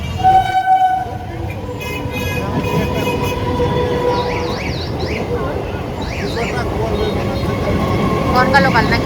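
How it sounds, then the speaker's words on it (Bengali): A train rumbles steadily through a railway level crossing, opening with a sustained horn tone and later giving a few short toots, with murmuring voices nearby throughout. "রেলগেট পড়েছে, ট্রেন আসছে"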